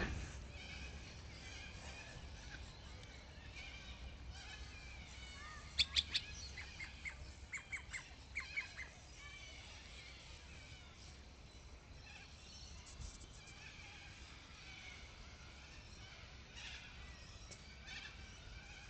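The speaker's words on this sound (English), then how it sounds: "Kookaburras." Short bursts of kookaburra calls ring out over steady outdoor ambience in a garden, a cluster of sharp repeated notes rising and falling at moderate distance.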